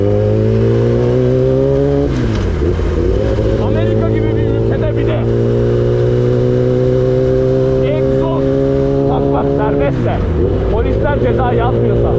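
A loud motorcycle engine, a Honda CBR1000RR or Kawasaki ZX-10R, revs up and drops back twice, steady droning exhaust throughout with faint background noise, in Las Vegas.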